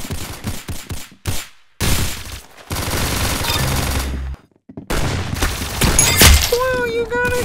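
Bursts of rapid gunfire from a mobile shooter game, with loud clustered volleys and short gaps, layered with game effects and brief rising tones near the end.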